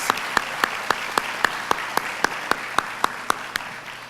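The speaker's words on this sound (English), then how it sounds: "Give yourself a great round of applause." An audience at a Motor City Match press conference in Detroit applauds the award winners. Close, steady, evenly spaced claps ring out over a softer bed of crowd clapping.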